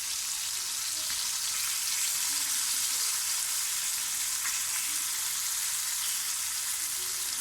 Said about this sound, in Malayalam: പിന്നെ മീൻ ഫ്രൈ ചെയ്യാനായിട്ട് ഇട്ടിട്ടുണ്ട്.